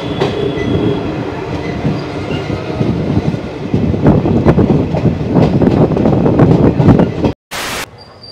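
The 13113 Hazarduari Express pulling into Lalgola station, a loud, close rumble with clickety-clack wheel beats building steadily before an abrupt cutoff near the end.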